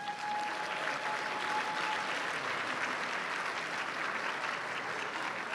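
Conference audience at a San Diego Housing Federation lunch keynote applauding the volunteers, a steady, sustained wash of many hands clapping throughout, evenly loud with no talk over it.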